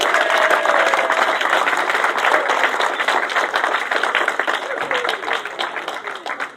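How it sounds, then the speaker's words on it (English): A speedway crowd at Belle Vue applauds and cheers the British sidecar champions with sustained, dense clapping and some crowd noise that gradually thins over several seconds. "Give them a great big cheer, please."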